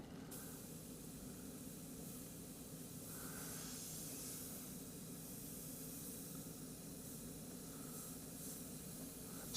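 An airbrush sprays heavily thinned sepia paint in a steady, faint, continuous hiss lasting throughout, close by with no talking.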